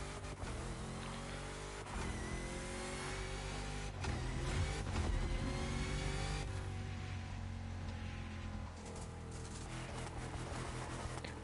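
Dodge Charger Hellcat Gen 2 engine in The Crew Motorfest on PS5, a steady loud engine drone with shifting pitch and swells in revving, continuous throughout with music-like layers and no speech.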